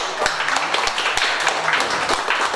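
A small birthday gathering claps at close range, irregular sharp slaps overlapping in a steady patter that stays fairly loud throughout.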